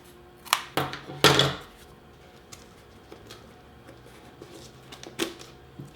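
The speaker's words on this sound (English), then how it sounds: "you can just trim some off the edge where it might be a little fat" Scissors trim off the fat edge of a cut piece while building a tabletop dice tower for miniatures. A few crisp snips come close together early on, then it goes quiet apart from faint scattered clicks.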